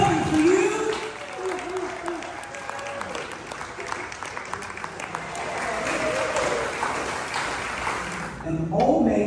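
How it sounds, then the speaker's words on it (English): Audience applause at a Veterans Day celebration marking one year of a senior living community, steady clapping from a gathered crowd with some voices mixed in, fading near the end as a voice resumes. "Give Jubilation a big round of applause"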